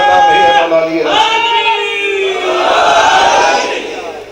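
A crowd at a Shia majlis in an imambargah chanting a slogan together, loud, close and reverberant, with voices rising and holding in unison.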